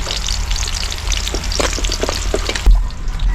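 Onions and chili sizzle loudly in oil in a pan while adobo is being cooked, a steady crackling fry with a few stirring scrapes throughout.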